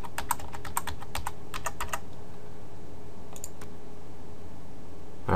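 Password being entered on a computer keyboard, a quick burst of close, crisp key clicks during the first two seconds, then a few more taps after a pause, with no talk over the quiet room.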